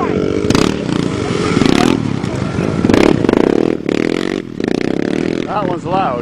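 A loud, nearby ATV engine roars and revs up and down on a hill climb over clattering and scraping, with people talking and shouting throughout.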